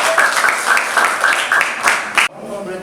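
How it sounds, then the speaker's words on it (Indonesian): An audience breaks into applause at a flight attendant crew talk, a dense and fairly loud clapping with a loose pulsing rhythm that cuts off abruptly near the end. "Tepuk tangan dulu dong."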